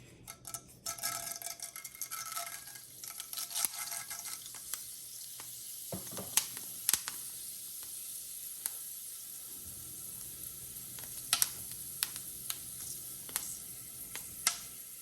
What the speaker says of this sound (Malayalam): അപ്പോൾ നമ്മുടെ എണ്ണ ചൂടായിട്ടുണ്ട്. ഇനി നമുക്ക് കുറച്ച് ഉലുവ ഇട്ട് കൊടുക്കാം.